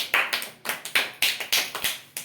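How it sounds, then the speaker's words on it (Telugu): A small group of children and adults clapping during a party game at home, about eight sharp close claps in a quick, slightly uneven rhythm. "ఆల్ కరెక్ట్ క్లాప్స్ కొట్టండి"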